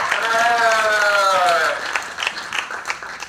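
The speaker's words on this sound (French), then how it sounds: "Merci à eux, on peut les applaudir" An audience at a talk applauds the event partners, a dense burst of clapping over a voice that carries a sustained tone, then thinning out into scattered claps.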